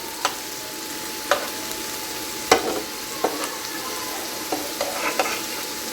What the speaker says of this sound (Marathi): आणि एकीकडे आपली मच्छी फ्राय होते आहे